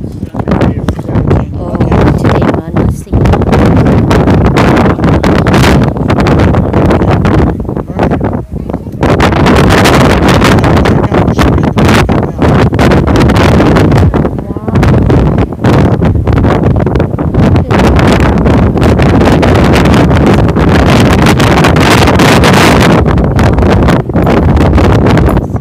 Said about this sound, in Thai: แต่ลมแรงมากๆเลย